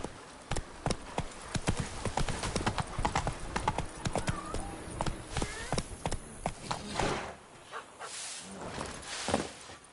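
Horse hooves clip-clop at a brisk gallop in The Witcher 3, a loud, close, rapid run of hoofbeats that eases into a softer, rougher patch before picking up again, with a brief voice heard.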